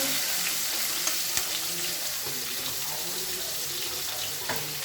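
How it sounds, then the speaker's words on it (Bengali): Sliced onions sizzle steadily in hot oil, a continuous bright hiss with occasional crackles and pops, moderately close with no talking. "আমরা এখন পেঁয়াজ দিয়ে দিচ্ছি তেলের সাথে।"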